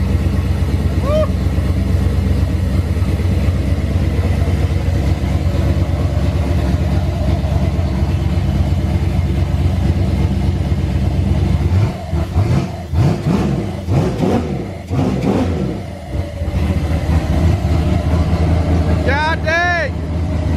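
A turbocharged racecar engine fitted with an expensive exhaust idles with a deep, loud rumble, then barks through several sharp revs in a row, with excited voices shouting nearby.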